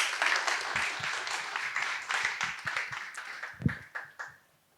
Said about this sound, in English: Please give Abel another round of applause.